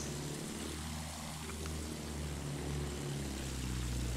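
A propeller warplane drones steadily through the whole stretch in a World War I Battlefield 1 match, loud and continuous with low engine harmonics and no talk.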